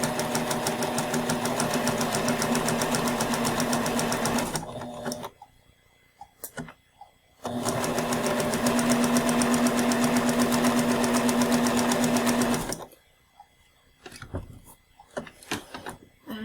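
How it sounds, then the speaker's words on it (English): Sewing machine stitching a zigzag on muslin, running loudly in two steady bursts of rapid needle chatter with a short pause between them and brief quieter stops and clicks at the end. "Needle in, press your foot down, and we're going to zigzag."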